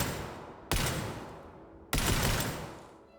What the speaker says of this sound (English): The sentence is cut short by a harmony of gunshots.